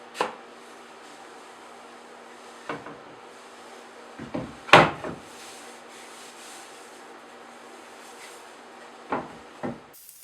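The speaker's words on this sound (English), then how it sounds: "I need to take off part of the dovetail here, so that's what I'm doing, just trimming that up, making it nice and flat." Hand trimming of a wooden stopped dovetail joint on a cantilever coffee table, scattered short scraping strokes at close range, a few sharper knocks between quiet pauses, no talking.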